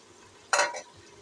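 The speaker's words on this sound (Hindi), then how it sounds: "अभी इसमें डालते हैं मसाला, और इसकी करते हैं अच्छे से भुनाई" Masala with tomatoes and a little black pepper stirred and fried in a pan, a single brief sizzling burst about a quarter second long, close and alone.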